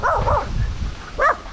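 A dog barks amid flood damage in a neighbourhood, two quick barks followed by a third after a short pause, fairly close and clear.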